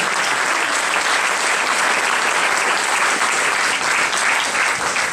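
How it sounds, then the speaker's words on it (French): Audience applause at a ceremony with a French minister, honouring four women creators; thick, sustained clapping from a large crowd, loud and even for about five seconds with no break. "vous applaudissez les 4 créatrices, Madame la ministre Fleur Pellerin."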